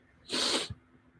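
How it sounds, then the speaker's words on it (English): A single short, sharp sneeze bursts out, followed by a faint soft thud in otherwise quiet surroundings. "I just sneezed"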